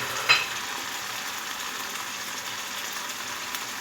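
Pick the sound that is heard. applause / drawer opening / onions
onions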